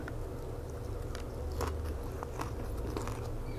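Crispy fried chilies eaten with som tam, soft crunchy bites and chewing crackles close to the mouth over a steady background hum, with no talk.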